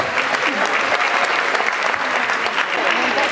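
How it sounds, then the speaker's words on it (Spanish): Crowd applause at a village tortilla contest in Barres, steady dense clapping throughout with voices mixed in, moderately loud and close. "Un aplauso para Edelmira."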